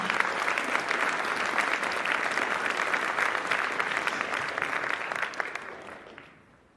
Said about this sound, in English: So can I just give them a round of applause for joining me?